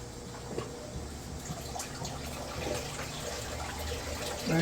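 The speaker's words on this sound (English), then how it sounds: "I think the water's high enough to plug in the pump" An aquarium water pump runs in a 40-gallon shrimp tank, making a soft, steady trickle and gurgle of moving water. It is faint and continuous, with no talking.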